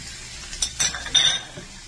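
Tomatoes going into a hot frying pan while cooking a zucchini omelette, giving a soft sizzle with a few light stirring scrapes and small clinks of a utensil against the pan.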